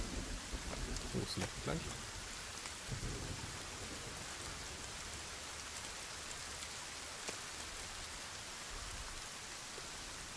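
Rain and thunder in the survival video game Sons of the Forest: a steady downpour hiss with low thunder rumbles early on, while players talk over it.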